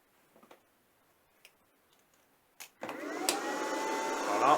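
An induction heater used for hardening steel starts up after a few faint ticks and clicks, settling into a steady, close hum with a rising tonal whine that holds to the end.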